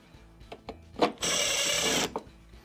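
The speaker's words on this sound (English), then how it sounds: "you're going to go around with all the regular screws, followed by the machine screw at the end" Power driver running a screw into a refrigerator fuse block module panel during a repair, heard as one close whirring burst of about a second, preceded and followed by a few faint clicks.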